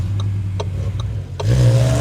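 A Maserati Grecale Folgore electric SUV pulls away, a faint ticking giving way to a rising, smooth motor whine and road rumble, close and steady.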